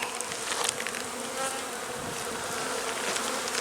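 Steady, dense buzzing of many honey bees inside a hive during an early March inspection, a continuous close hum with no voices.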